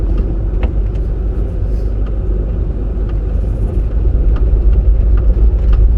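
A 1979 Porsche 924 engine running while the car is driven, a loud, steady low rumble from inside the cabin with faint clicks and rattles scattered throughout, no talking.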